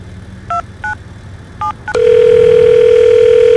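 Telephone keypad tones in the BeamNG.drive video game: four short, clean dual-tone beeps in an uneven rhythm, then a loud, steady dial tone that holds to the end.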